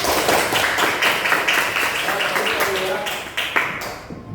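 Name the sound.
classroom applause for a student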